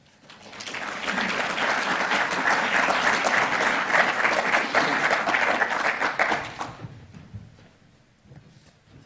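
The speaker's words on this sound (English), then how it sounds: "big round of applause for Ross." A symposium audience at the World Congress on Safety and Health at Work in Sydney applauds speaker Ross, sustained clapping that swells quickly, holds for several seconds, then stops abruptly, leaving a quiet room.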